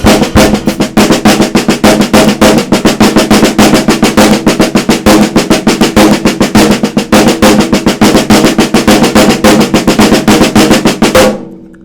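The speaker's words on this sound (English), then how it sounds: "So I have paradiddle, paradiddle, double paradiddle, double paradiddle." Drum paradiddle rudiments played on a drum kit: a continuous, loud, rapid stream of evenly spaced strokes with steady accents, sustained close-up for about eleven seconds before stopping abruptly, with no voices.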